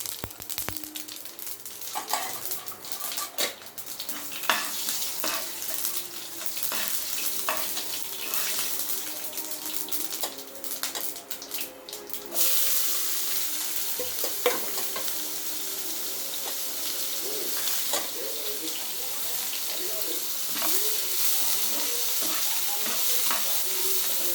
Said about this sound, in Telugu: ఇందులో పోపు వచ్చి ఆవాలు జీలకర్ర మెంతులు ఎండుమిర్చి